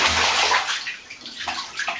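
A small child splashes water in a bathtub, with loud, continuous sloshing and slapping of water close by, easing slightly midway before a few more splashes.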